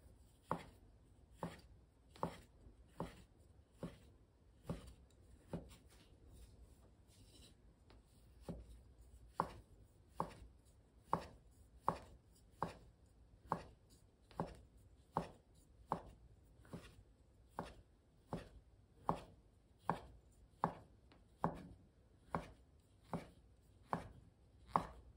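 A knife chops handmade kalguksu noodle dough on a board in steady, evenly spaced strokes, about one to two per second, close and crisp, with no talk.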